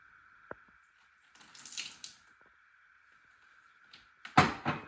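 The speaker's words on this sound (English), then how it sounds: "10 milliliters of tap water." Tap water, about 10 milliliters, is poured for making ice: a few short splashing bursts, the last one louder and close, over a steady electrical hum with a small knock near the start.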